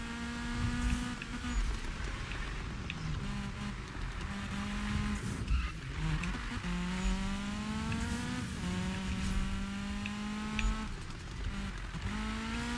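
A Volvo in Need for Speed 2015 accelerates hard on nitro, its engine climbing through repeated rising pitch sweeps between gear shifts, steady and fairly close with faint tire noise.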